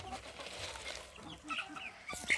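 Free-range backyard chickens cluck faintly in a yard, with soft scattered calls and some low background noise.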